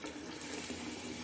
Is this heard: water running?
yes